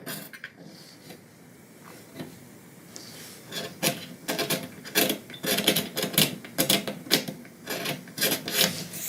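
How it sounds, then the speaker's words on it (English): Scraping along the guitar binding where it meets the purfling, a run of short dry rasping strokes that grows louder and quicker toward the end, close up with no talking. "I just want to scrape this area here because you run the risk of getting it too thin."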